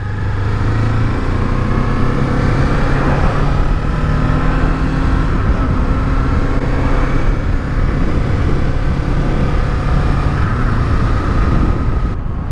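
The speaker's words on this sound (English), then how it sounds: "This is my new 2024 Ninja 500 ABS model" A 2024 Kawasaki Ninja 500 ABS motorcycle running steadily while being ridden, its engine drone loud and continuous with wind rushing across the microphone throughout.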